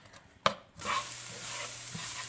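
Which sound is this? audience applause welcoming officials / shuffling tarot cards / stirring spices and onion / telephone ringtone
stirring spices and onion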